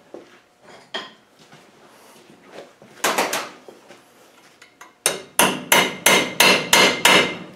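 Sharp metallic hammer taps on a snapped Rover V8 manifold stud, scattered at first, then a fast run of about eight evenly spaced loud strikes, close up.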